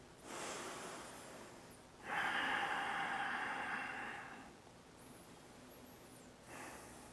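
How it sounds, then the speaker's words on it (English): Slow, deep breathing during a yoga session, a long airy inhale and exhale followed by a softer breath, close to the microphone with brief quiet gaps and no talking. "Close your eyes, take some deep breaths here."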